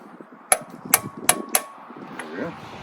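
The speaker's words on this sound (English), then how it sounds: "Better off using a rubber mallet." A rubber mallet taps a pinned front end loader pin on a Kubota tractor, giving four sharp, close knocks spaced about half a second apart, with faint talk and workshop noise underneath.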